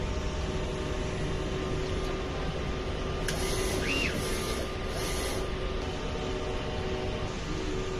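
Printer running a head clean and nozzle check, a loud steady mechanical hum and drone with a few brief higher whirring passes partway through, no talking.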